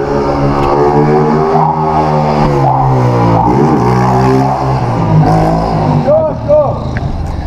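A Honda Mix motorcycle revs hard and close, its engine note climbing and falling in repeated surges, with a sharp higher whine near the end.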